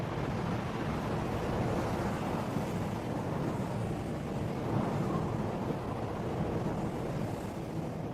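A storm batters a bald eagle nest with constant heavy wind, a loud, steady broadband roar with gusty buffeting. No distinct thunderclap stands out.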